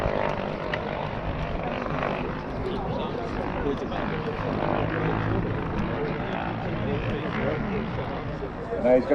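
RC model airplane at the Popham Model Air Show making a low pass down the runway, its propeller engine droning steadily and fairly loud throughout, mixed with crowd chatter and outdoor voices.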